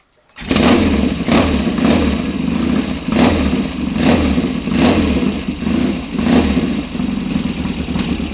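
A Norton Ranger 750 motorcycle engine, already warm, ticks over at idle after starting, its close, loud, even beat pulsing steadily with a lumpy, regular rhythm and no talking.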